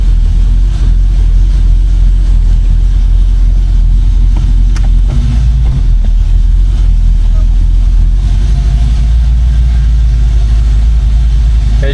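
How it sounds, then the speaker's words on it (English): A 1965 Mustang's 289 V8 with custom exhaust runs loud and steady with a deep low rumble throughout, rising slightly in a brief rev near the middle. "we got a custom exhaust under here as well. 289 sounds good."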